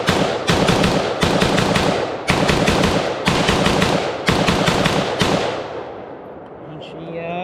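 A T65K2 rifle fires five rapid bursts of automatic fire, loud and close at an outdoor range, each burst ending sharply, with a fading echo and faint background sounds after the last burst.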